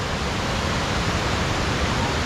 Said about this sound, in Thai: มันก็จะเป็นน้ำตกเป็นระดับลงไป